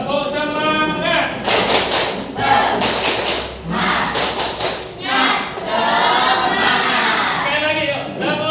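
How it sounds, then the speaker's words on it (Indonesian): A classroom group of students performs a chanted clapping routine, voices chanting in rhythm while sharp bursts of unison hand claps land in tight clusters between phrases, loud and close. "Tepuk semangat."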